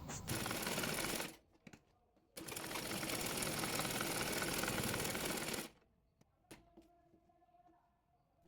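A sewing machine stitches the hem of a baby's pants in two bursts of fast, buzzing needle chatter, the second longer, separated and followed by quiet clicks and fabric handling.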